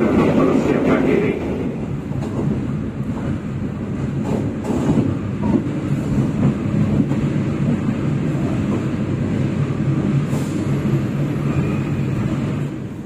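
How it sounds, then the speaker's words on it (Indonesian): The Mutiara Timur passenger train pulls into Mojokerto station in Indonesia, heard from inside a carriage as a steady loud rumble and rolling rail noise throughout. "Sesaat lagi kereta api Mutiara Timur akan tiba dan berhenti di stasiun Mojokerto."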